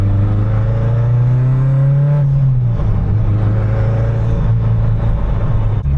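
A Mitsubishi Evo 8 engine drones steadily while driving around the block, close and loud, its pitch rising slightly then dropping as revs ease, with no voices.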